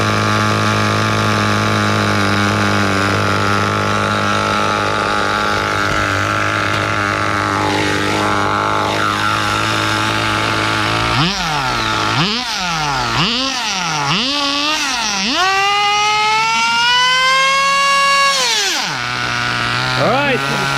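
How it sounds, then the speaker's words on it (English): A small CEN CT5 nitro RC car engine idles with a loud, buzzy drone, then revs up and down in several sharp rising and falling bursts and holds one long high rev before dropping back. "The idle is like super hard to get to on this side."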